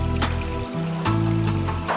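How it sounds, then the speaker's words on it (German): Water trickles and babbles steadily in a small forest stream beside a hiking trail in the Skuleskogen area of Sweden's High Coast, close and continuous, with no voices. "Bisschen plätschert es vor sich hin."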